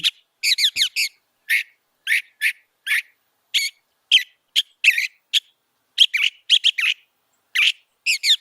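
Bright, whistled bird song repeats in quick short phrases, clear and close, with brief gaps of silence between each burst.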